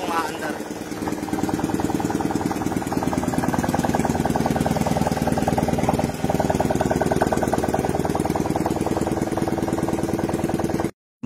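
A GY6 four-valve motorcycle engine catches after a brief start and keeps running steadily up close, with a dense, busy mechanical drone that stays loud and even until it cuts off abruptly at the end.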